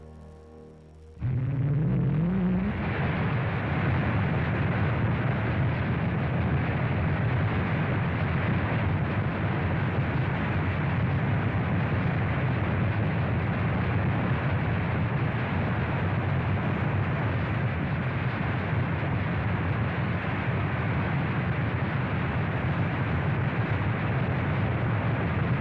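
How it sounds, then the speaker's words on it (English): A Navy Viking single-stage rocket launches with a sudden ignition, then settles into a sustained, loud, broadband roar that holds steady for about 25 seconds. "The Navy's Viking is about to set a new record for a single-stage rocket."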